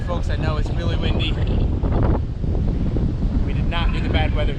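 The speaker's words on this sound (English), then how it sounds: "if you can hear any of this over the immense wind" Strong wind buffets the microphone on a hiking stretch of the Appalachian Trail, a loud continuous roar that nearly drowns out voices talking throughout.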